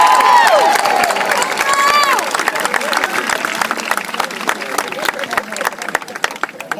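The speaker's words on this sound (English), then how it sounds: "Can we give them a round of applause?" A high school graduation crowd for the Clayton High School class of 2013 breaks into sustained clapping and cheering, dense and energetic at first, then thinning into scattered claps, with a whistle early on.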